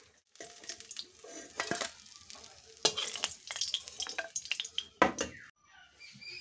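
Rui fish fry in hot oil with crackling, popping sizzles and intermittent scrapes and clinks of a utensil against the pan, the spatter rising and falling in irregular bursts up close.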